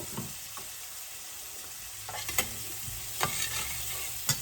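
Onions caramelizing in a pan with a little black pepper, a soft steady sizzle broken by occasional spatula scrapes and taps, close and quiet.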